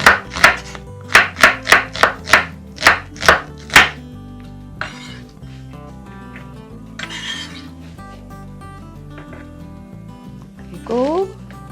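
A knife chops onion in about nine quick, evenly spaced strikes over the first four seconds, close and crisp, followed by soft background music.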